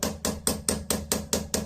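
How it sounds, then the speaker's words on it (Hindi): Hammer tapping on a tool to drive a stuck part out of an RO water purifier, eight sharp, evenly spaced strikes in quick succession, close and moderately loud, no talking. "और हथौड़े की मदद से इस तरह से निकालने की कोशिश करना है।"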